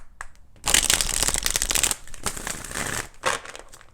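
Tarot cards being shuffled close up, a dense riffling flutter that runs for about a second and a half, eases, then returns in shorter bursts with a final snap, no voices.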